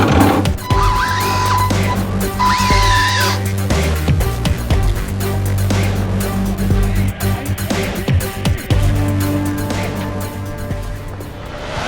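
RC no-prep drag race cars launch in a semifinal run at a street-style drag event, giving loud, continuous high-pitched motor whine with tyre noise and some crowd sound throughout.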